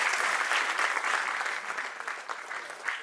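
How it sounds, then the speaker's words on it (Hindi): A crowd at the Maharashtra Chamber centenary celebration and headquarters inauguration applauds Mrs. Manisha Chopra as she is honoured as chief patron, with a continuous, even wash of clapping from many hands that eases slightly toward the end. "तालियां हम जोर से बजाएंगे इनके लिए।"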